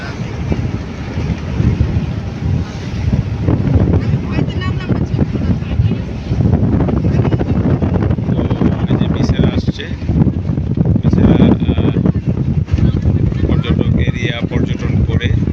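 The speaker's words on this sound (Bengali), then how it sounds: "আমরা ট্রলারের উপরে আছি।" A trawler boat cruising across the open Nikli haor wetland, with a steady low engine drone and heavy wind buffeting throughout, plus faint splashing water.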